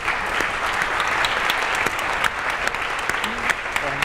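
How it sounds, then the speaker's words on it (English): Steady crowd applause, a dense wash of clapping that holds at an even level throughout with a few sharper individual claps standing out. "a round of applause, too."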